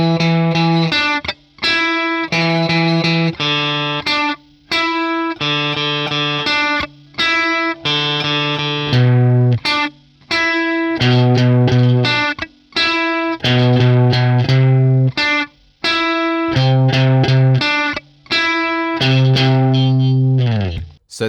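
A bright electric guitar riff with effects, the main verse riff of a song, repeating phrases of clipped chords and single notes, loud and close, with brief gaps between bars.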